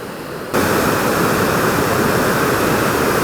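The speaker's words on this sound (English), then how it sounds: "this is one of the most beautiful waterfalls I've seen anywhere for this size of a waterfall" A wide, tall waterfall near Wawa on Lake Superior's north shore roars in a loud, steady wash of rushing water that swells suddenly after a quieter opening moment.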